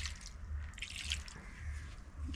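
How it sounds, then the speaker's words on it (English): Water poured by hand into wheat flour and salt for dough, a soft trickling and dripping close by and fairly quiet. "And pour water."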